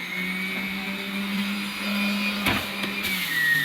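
A GDOR large capacity centrifugal juicer runs with a steady, loud motor whine and hum, close by and unbroken, with a few brief knocks as pineapple is fed in and no speech.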